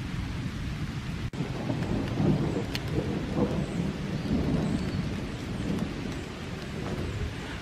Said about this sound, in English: Starting to rain a little harder.